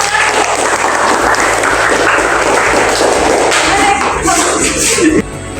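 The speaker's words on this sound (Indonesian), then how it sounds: "Oke, tepuk tangan untuk semua." Schoolchildren in a classroom clap together after a presentation, a loud burst of many hands with some sharp slaps, fading slightly toward the end.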